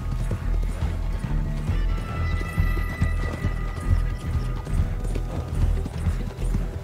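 Horse hooves clip-clop steadily in the Red Dead Online video game, a close, regular rhythm running throughout alongside the low rumble of ambient game sound.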